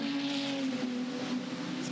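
An Improved Production race car circulates at Adelaide, its engine holding a steady droning note at moderate distance that shifts slightly in pitch, with no voices present.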